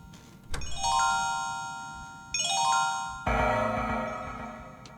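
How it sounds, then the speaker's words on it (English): In the horror video game Calling, a cell phone ringtone plays loudly: three bright, chiming, doorbell-like tone sequences, each fading out before the next begins, with no talk. "Cell phone. I see they set their ringtone to max volume."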